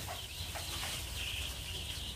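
Week-old tiger breed chicken chicks peep in a continuous, high, busy chorus that stays close and even throughout, with no voices.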